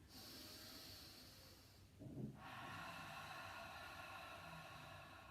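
Yoga breathing, exhaling through the back of the throat as if fogging a mirror: a soft, close, hissing breath that fades out. It is followed by a short gasping inhale and then a longer, steady airy exhale.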